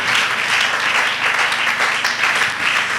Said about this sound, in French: Est-ce qu'on peut acclamer très fort la parole du Seigneur?